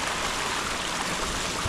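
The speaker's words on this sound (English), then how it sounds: "That's all swamp water right here." Swamp water rushes steadily through a breached beaver dam, a dense continuous wash of flowing water, loud and close with no voices.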